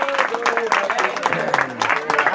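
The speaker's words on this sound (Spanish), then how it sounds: "¡Fuerte los aplausos para la cumpleañera!" Applause and cheering from the guests at a quinceañera for the birthday girl, a steady crowd clapping throughout with voices mixed in.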